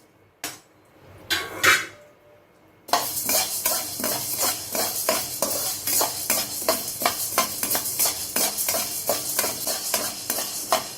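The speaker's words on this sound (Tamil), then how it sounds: "முந்நூறு கிராம் சீரகத்தை நான் வந்து வறுத்து எடுத்துக்கிறேன்" Whole cumin seeds and black peppercorns dry-roasting in a pan for a traditional fish curry and sambar spice powder, with a steady run of rhythmic scraping and stirring strokes over a dry rattling bed, close and fairly loud, no voices.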